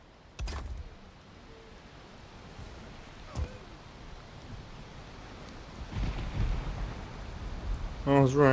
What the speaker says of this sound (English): what's with this rain, man? It's always raining.